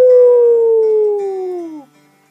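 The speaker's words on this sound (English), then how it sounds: "The coyote ran to the top of the mesa and howled." A coyote howl sound effect in a story set on a mesa, one loud, long, wavering howl that slides slowly downward and fades out after about two seconds.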